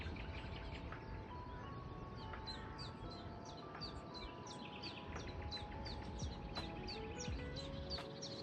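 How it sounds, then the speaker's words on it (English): Nightingales sing in the background at RSPB Pulborough Brooks, with repeated short chirps and whistled phrases rising over a steady broadband outdoor hiss, fairly faint and continuous throughout. "I've already heard 4 different nightingales singing, which you might be able to hear in the background."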